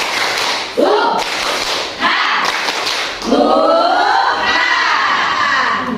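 A group of young children at a kindergarten gathering performs a rhythmic clapping chant, shouting together in loud bursts with hand claps, ending in a sustained cheer-like group shout.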